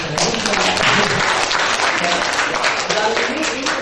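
Steady audience applause fills the room throughout, with voices mixed in under the clapping.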